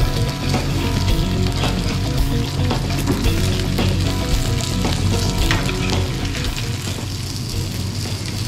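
Puffer fish and trout fillets pan frying, a dense, loud, continuous sizzle of hot oil with occasional stirring scrapes, close up and unbroken, no talking.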